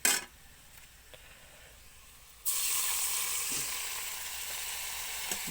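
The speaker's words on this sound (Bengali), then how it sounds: "এরপর দেবো সামান্য একটু জল।" Ginger and chilli spice paste in a pan erupts into a loud, steady sizzle the moment water is added, after a short scrape and a quieter stretch. The hiss then carries on evenly, close up.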